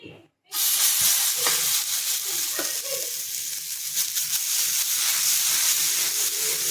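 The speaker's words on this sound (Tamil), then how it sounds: "கீரை தோசை ஊற்ற போகிறோம்" After a brief silence, spinach dosa batter hits a hot pan and bursts into a loud, close sizzle that continues steadily with light crackles as it cooks.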